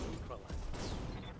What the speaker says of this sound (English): Oh, 2 ammo explosions?